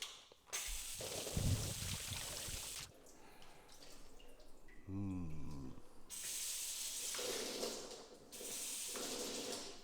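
Water sprays in several bursts onto wax-coated test panels, a close hissing rinse that stops and starts, with quieter dripping between blasts and no talking.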